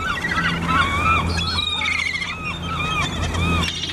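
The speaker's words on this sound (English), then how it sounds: "My gosh, look at the birds, guys." Seabirds being fed near the ocean, a busy flock calling loudly with many overlapping squawks and cries close by, continuous throughout.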